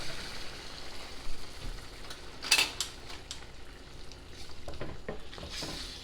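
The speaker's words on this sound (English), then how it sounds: "We're just going to kind of brown the flour and get it all cooked and incorporated with the butter and veggies." Flour browning with butter and vegetables in a pot for chicken pot pie, giving a steady soft sizzle with a few scraping stirs and one sharp clink of a utensil midway.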